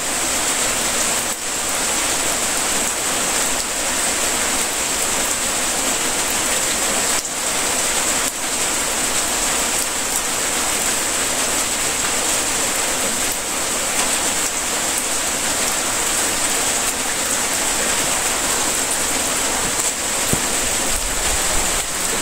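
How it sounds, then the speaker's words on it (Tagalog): Heavy rain pours steadily and loudly, a dense constant hiss on surfaces throughout with no pauses. "lakas ng ulan mga idol"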